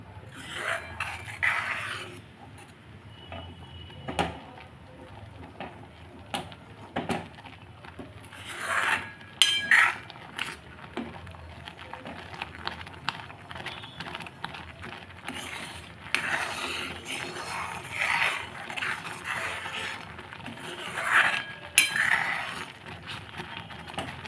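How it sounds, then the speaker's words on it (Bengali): A semolina and cashew mixture is stirred in a wok over low heat until it dries and pulls away from the pan, giving steady dry rasping and scraping strokes with occasional sharper spatula clinks against the metal. "যতক্ষণ না ও কড়াই থেকে ছেড়ে আসে ততক্ষণ এটা নেড়ে যেতে হবে"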